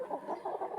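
Laying hens at a poultry setup clucking softly in a brief, continuous burst of low murmuring calls, close and moderately quiet with no speech.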